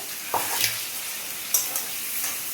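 Cumin seeds tempering in hot oil in a kadai, a soft continuous sizzle with a few brief spatters and utensil taps, close and fairly quiet with no talking.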